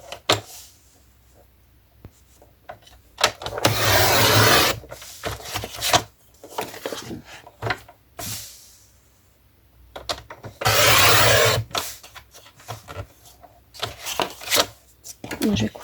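A paper page from a Christmas in the forest pad is cut for a Christmas album, two long rasping cutting bursts with short rustles and handling noises between them, close, with a voice talking over parts of it.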